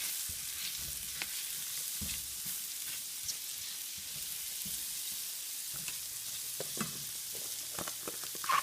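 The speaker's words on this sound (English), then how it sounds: "you can stick your onions and your mushroom in there, or your shallot, whatever. And then just saute those." Onions and mushrooms sautéing in melted butter in a pan while making chicken marsala, a soft continuous sizzle with a few light scrapes and stirs, fairly quiet and close.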